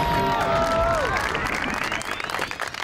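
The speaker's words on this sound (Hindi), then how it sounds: "तालियां बजाएं, देव आनंद आ गया है" A studio audience applauds on a comedy show, dense and steady at first, then thinning toward the end. A warbling musical tone plays over the opening.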